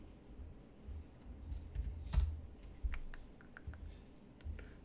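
Computer keyboard typing during an online Typeracer typing test: quiet, irregular clacking keystrokes with a few sharper clicks over a low background hum, no talking.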